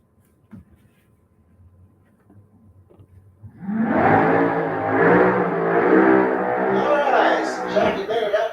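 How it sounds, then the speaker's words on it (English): A top dragster launches and roars down the drag strip at a raceway, a quiet lead-in of low rumble and faint talk giving way to a loud, sustained engine blast. "in the dragster."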